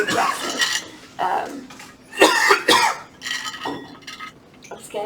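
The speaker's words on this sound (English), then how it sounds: "I was going to say bless you, but you coughed on your nose instead" A person coughs several times in short bursts during a lecture, fairly close and loud, with faint clinking like dishes or cutlery in the background.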